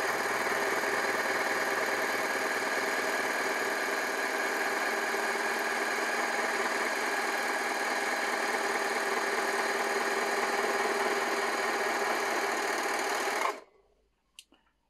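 A Rubina 420 overlock sewing machine stitching chiffon runs with a fast, steady mechanical whir and rattle for about thirteen seconds, then cuts off abruptly, leaving near silence and a faint click.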